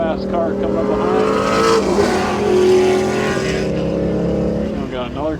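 A fast car closes in from behind on a race track, its engine a loud, continuous roar that swells and shifts in pitch as it nears, heard from inside another car on the circuit.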